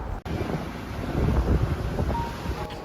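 Wind and ocean waves on a Maldives island beach on a calm morning make a loud, continuous roaring wash with low rumbling buffets of wind on the microphone throughout.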